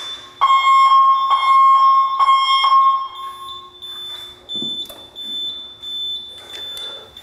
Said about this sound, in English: So we have a general fire alarm activation.